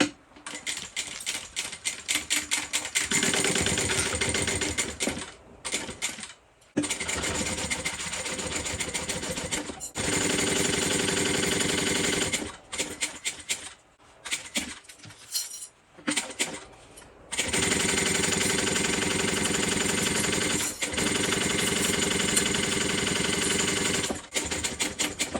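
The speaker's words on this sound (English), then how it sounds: "So we're going to go ahead and sew this at the seam allowance." A sewing machine stitches a bag seam in long, rapid runs of needle clatter, stopping briefly several times before starting again, close and alone without talk.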